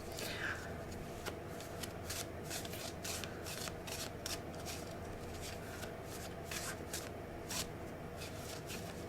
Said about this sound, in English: You'll have to let me know what you think of the shuffling sounds for this one.